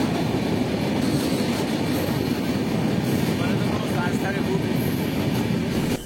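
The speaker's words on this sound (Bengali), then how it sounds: "train number 12643 Hazrat Nizamuddin Swarna Jayanti superfast express" Hazrat Nizamuddin Swarna Jayanti Superfast Express train passing close by, a loud steady rumble and roar of wheels on track lasting throughout with faint rhythmic clatter.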